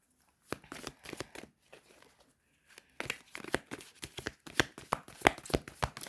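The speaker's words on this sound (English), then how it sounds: "Let's see, let's shuffle some more cards." Playing cards being shuffled up close, bursts of rapid riffling and flicking, quieter at first, then a longer busy run of snapping card sounds.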